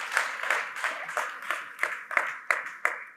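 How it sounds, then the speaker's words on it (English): An audience at a tech keynote claps in a regular, almost unison rhythm, about three beats a second, moderately loud and with no talk over it. "Let's give Rashid a round of applause."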